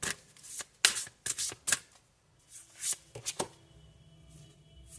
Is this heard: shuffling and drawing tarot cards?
yes